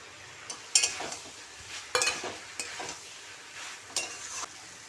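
A spoon stirs a pan of curry with boiled jackfruit seeds, giving four or five distinct scraping, clinking strokes at roughly one-second intervals over a soft background simmer.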